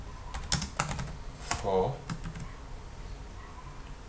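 Several quick keyboard clicks on a computer while filling in a web form, sharp isolated taps in short bursts, with someone speaking briefly over them.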